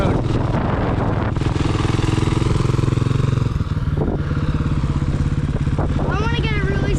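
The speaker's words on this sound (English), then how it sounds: "Yep, a dirt bike." Dirt bike engine at an outdoor car show, a loud close rough idle that rises in a brief rev midway, with clattering mechanical noise and some background chatter near the end.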